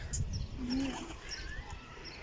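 Pigeons give a soft, low coo, faint and close, against a muffled outdoor background with slight chirping.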